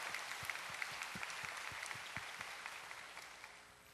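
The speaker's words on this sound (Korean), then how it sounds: "박수로 영광을 올려드립니다" A church congregation applauds during a Korean worship service. The clapping sounds faint and distant, and its beats fall in a loose, even rhythm that fades toward the end.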